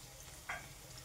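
Onion fries in a kadai, making a faint, steady sizzle with one brief brighter crackle or scrape partway through.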